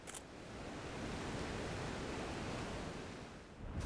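Steady roar of the first falls on a river in the Bend, Oregon area, broadband rushing water filling the whole stretch at an even, constant level.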